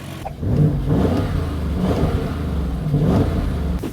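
An Audi SQ7 V8 engine revs with a rising, throaty roar, holding a loud, steady rumble close by after a quick start, with no voices over it.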